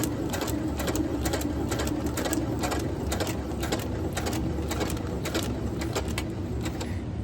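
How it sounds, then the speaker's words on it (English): A sewing machine stitches along a kite line with a steady, close mechanical whir, punctuated by rapid ticking bursts of the needle throughout. "I'm actually just gonna continue to sew right down this kite line"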